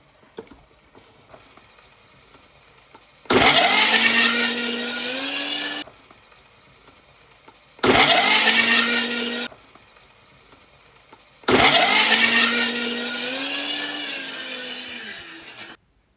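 A mixer grinder loaded with onion, green chilli and potato whirs loudly in three separate bursts, and its pitch slides as the blades speed up and then slow down, with quiet gaps between the runs.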